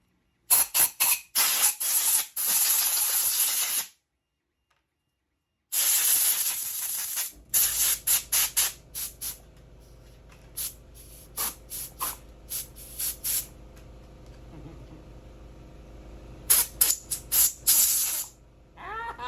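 Compressed air blows out glue and debris from an S-64E Sky Crane scale model, loud close hissing bursts, several rapid short blasts, a long steady blast, a pause, then more repeated short puffs.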